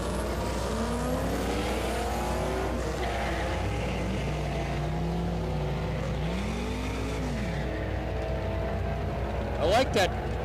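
Ford Mustang race car at a drag strip during a grudge racing event, its engine rumbling loudly and continuously with revving sweeps, over a steady crowd and announcer backdrop, with a sharp burst near the end.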